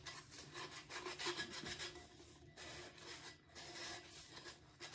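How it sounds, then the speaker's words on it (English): Close, scratchy rubbing strokes of hand sanding along the rough glitter edge of a leopard-pattern tumbler, irregular back-and-forth passes at moderate level. "so I'm just gonna sand it a little bit."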